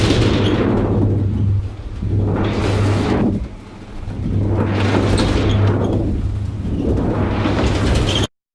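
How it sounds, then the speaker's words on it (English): Low-pass filter cutoff sweeping up and down on a continuous noisy game sound as an obstruction changes in Unity, giving three slow whooshing sweeps over a steady low hum, loud and without talk. "Sliding the cutoff frequency would be a terrible idea because it would sound like this."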